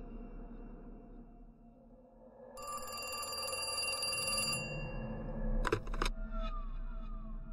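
A telephone rings in the horror adventure game The Cat Lady, a faint electronic trill over a low ambient hum, then a brief louder burst, with no talk.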